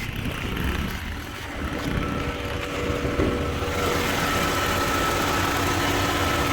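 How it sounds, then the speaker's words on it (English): Car engine idling with the hood open after transmission fluid was poured into the engine oil, a steady, smooth mid-pitched hum with light mechanical vibration, heard up close and unbroken throughout. "You can see the engine is running so quiet and so smooth."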